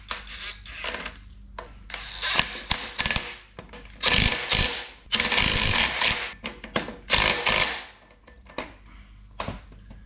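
Ratchet wrench torquing bolts on a 948cc Morris Minor engine, heard as several bursts of rapid mechanical clicking separated by short pauses, close and fairly loud with no talking.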